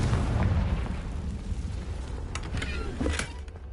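Fiery Confringo spell blasts in the wizarding game Hogwarts Legacy: a sustained low rumbling burst with crackling, then sharp bright pops near the end, loud and up close.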